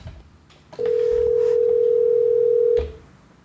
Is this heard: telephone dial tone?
yes